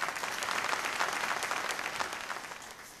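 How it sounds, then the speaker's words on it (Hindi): Loud, continuous applause from a large audience at a police awards ceremony fills the room, dense and unbroken before easing slightly at the end. "मैं चाहूँगी ज़रा ज़ोरदार तालियां हो जाए इनके लिए"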